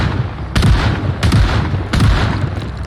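Three loud, evenly spaced shotgun blasts from the zombie survival game Project Zomboid, each a sharp boom with a short decaying tail, heard alone without talk.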